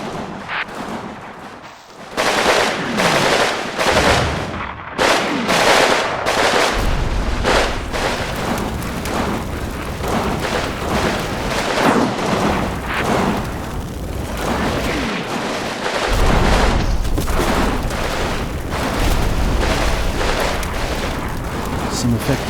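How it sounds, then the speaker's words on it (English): Tank cannon and infantry rifle fire in a Combat Mission: Stalingrad battle around a station building, with loud repeated booms and crackling shots over continuous rumbling. "Some effective fire coming into the station building, tank fire as well as infantry."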